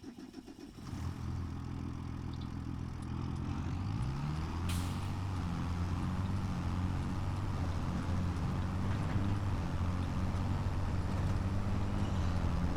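Tractor engine in the Farming Simulator 25 video game starts and settles into a steady, loud diesel rumble with a deep droning hum that carries on without a break.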